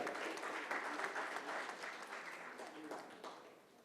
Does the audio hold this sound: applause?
yes